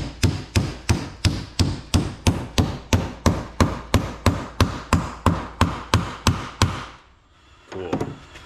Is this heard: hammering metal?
yes